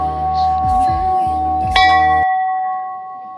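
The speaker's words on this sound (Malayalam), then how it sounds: "മണിയടിക്കാൻ" A bell is struck at Sri Vindhyavasini temple in Pokhara, Nepal: one bright metallic clang with a sustained ringing tone that decays after about two seconds, over low background murmur.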